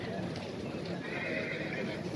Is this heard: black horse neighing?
yes